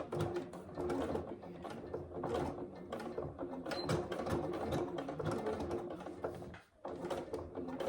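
A sewing machine stitches fabric for a tall wash bag, with a steady, close mechanical whirr and rapid needle chatter that runs almost unbroken and pauses only briefly near the end.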